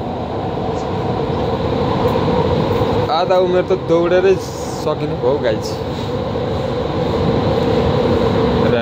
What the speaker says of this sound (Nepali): هذا القطار متجه إلى راس محمد